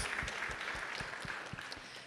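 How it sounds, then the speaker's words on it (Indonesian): Clapping from a church congregation during a worship service, a steady patter of many hands at moderate distance, heard alone without voices. "Beri dulu tepuk tangan bagi Tuhan Yesus."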